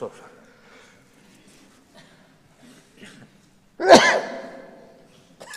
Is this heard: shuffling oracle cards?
no